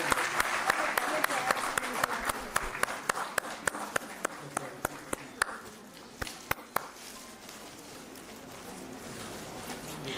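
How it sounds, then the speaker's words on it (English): Audience applause at a women's empowerment ceremony honouring university officials, a dense roomful of clapping with sharp individual claps standing out, strong at first and gradually thinning as it fades over about ten seconds. "Please give a big round of applause"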